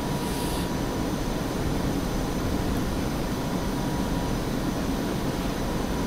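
An aircraft engine in the DCS flight simulator produces a steady, dense roar that stays loud and unchanging for the whole stretch, with no voices.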